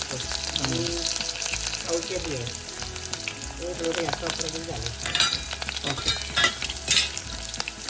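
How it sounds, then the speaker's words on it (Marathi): Finely chopped onion and curry leaves dropped into hot oil in a home kitchen, a loud sizzle with repeated stirring and scraping while music plays in the background. "तेल जरा तापू द्यायचं छान तापलेलं आहे आणि आपण सगळ्यात आधी घालतोय बारीक चिरलेला हा कांदा कढीपत्ता"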